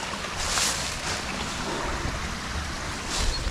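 Water pours continuously over a beaver dam in a steady, broadband rush that swells slightly at moments, with some wind buffeting, and no voices.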